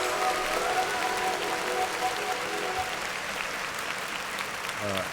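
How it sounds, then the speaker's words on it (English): Applause rings out on a podcast set, a steady wash of clapping that fills the whole stretch at even loudness, with faint voices and a few tonal sounds mixed underneath. "Clap it up for that."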